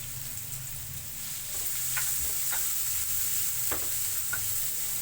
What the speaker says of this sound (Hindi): तो अब हम इसमें कटे हुए प्याज ऐड कर देंगे।